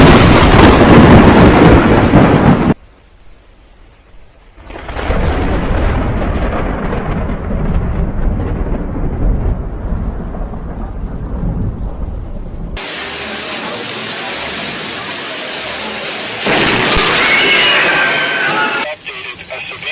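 A close thunder strike during a rainstorm sounds as a loud, sharp crash, followed by steady heavy rain hissing and pattering on surfaces. The sound drops out abruptly in places.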